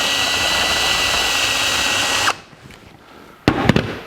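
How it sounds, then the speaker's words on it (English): A drill with a carbide bit deburrs the edges of a hole in a steel front cross member for a 1949 Chevrolet gasser. It gives a loud, close, steady whine and grind that stops abruptly, then a short second burst follows. "So we'll take a carbide bit and a drill and just go around the edges."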